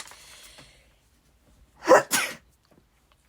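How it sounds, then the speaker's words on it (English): A single sharp human sneeze, close and loud, preceded by a quick in-breath and followed by a brief second burst, with quiet surroundings before and after. "I'm going to sneeze."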